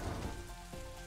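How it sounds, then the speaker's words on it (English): Rain patters in a brief, steady wash, a short stretch of even hiss and droplet noise heard close, with no voices over it. "Oh, it's raining."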